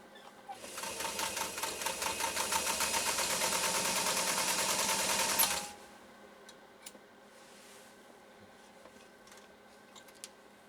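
A Singer 192K Spartan sewing machine stitching through very thick leather: a loud, steady, rapid mechanical chatter for about five seconds, then it stops abruptly and only faint clicks and handling noises remain.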